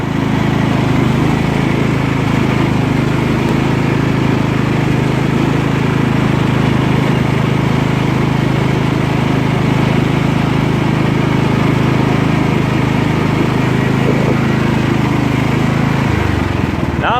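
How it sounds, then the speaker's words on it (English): A Scotts lawn tractor, serviced after repairs, runs with a steady, loud engine drone close by, holding even throughout before cutting off near the end. "I love it when a good tractor runs good."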